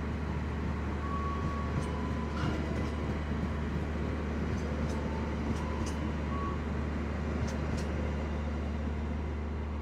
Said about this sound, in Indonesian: Kereta api Sawunggali dari Pasar Senen tujuan ke Kutoarjo